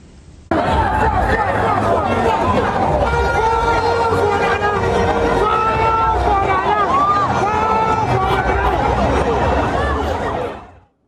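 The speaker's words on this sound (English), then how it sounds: "these pictures of the noise and the milling crowds falling upon each other" Noisy milling crowd at a busy outdoor gathering, a steady loud babble of many voices with shouting and chatter, close and continuous until it cuts off abruptly.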